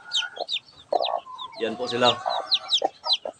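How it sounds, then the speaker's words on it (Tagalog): A hen clucks in a nest alongside her hatched chicks peeping in quick high chirps, close by, while a person speaks briefly over them. "Ayan po yung mga sisiw"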